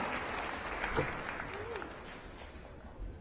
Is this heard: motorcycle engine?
no